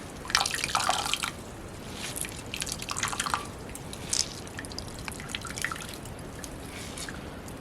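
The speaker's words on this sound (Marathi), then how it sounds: "चुरायची जरा आणि मग पाणी काढून घ्यायचं" Irregular dripping and trickling as water is squeezed by hand out of boiled wild greens, small splashes and patters coming in uneven bursts, close and fairly quiet with no talking.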